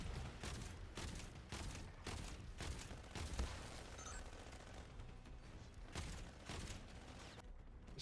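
Missile explosions and bursts in a video game boss fight arrive as repeated rapid booms and crackling blasts, dense and continuous with periodic louder hits throughout.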